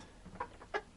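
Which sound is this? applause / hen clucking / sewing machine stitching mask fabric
hen clucking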